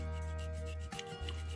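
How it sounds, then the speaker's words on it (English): Sanding the side of a small toy car for a Gaslands build: a steady rubbing rasp that runs continuously, close and fairly quiet, with a brief pause near the middle before resuming. "let's just do a little bit of sanding on each side of the car"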